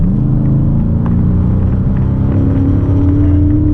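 A 2019 Dodge Charger Scat Pack in sport mode gives a deep, loud engine rumble from inside the cabin, its tone rising steadily as it accelerates, with no voices.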